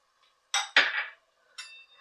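Onions and green chillies drop into frying masala in a pan while making a fish curry, giving two quick clattering bursts close by, then a short clink of a utensil, with no talk.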